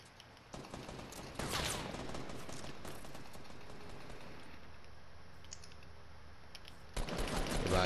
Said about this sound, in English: Bro, who are you shooting at?